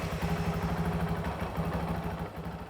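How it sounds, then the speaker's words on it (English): A Honda CRF450L motorcycle engine idles close by while it warms its oil, giving a steady, slightly pulsing single-cylinder chug that carries on throughout. "The first step is to run our engine for a minute and let that oil warm up."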